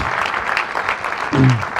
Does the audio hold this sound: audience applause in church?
yes